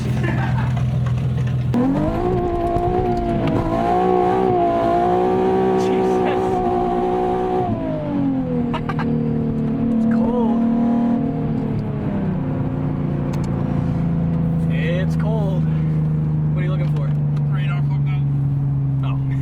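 Loud race car engines rumbling and revving close by, pitch rising and falling over a steady drone, with voices talking over the noise.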